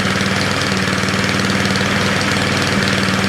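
A Craftsman 24 snowblower with its governor bypassed runs steadily, a loud, close, even engine drone with a fast knocking pulse and no voices.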